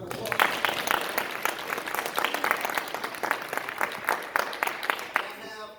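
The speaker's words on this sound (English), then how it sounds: "Give them a nice round of applause." An audience at a live poetry show in Racine, Wisconsin bursts into sustained, dense clapping that holds steady throughout, fairly close and loud, with a voice faintly underneath.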